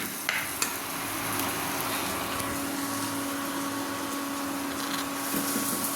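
Roasted masala being sautéed in a pan for bhaji gives a steady sizzle and scrape of stirring, with a few sharp clinks at the start, close and continuous without voices.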